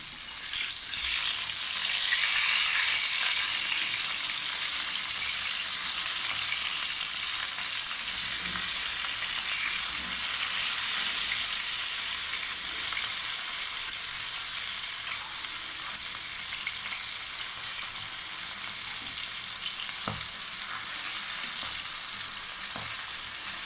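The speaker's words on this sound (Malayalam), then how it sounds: "അപ്പോൾ അതും അവിടെ ഫ്രൈ ആയിക്കൊണ്ടിരിക്കുന്നുണ്ട്." Fish frying in a pan in a home kitchen, a steady bright sizzle and crackle of hot oil continuing throughout, close and moderately loud, with a few soft pops and no talking.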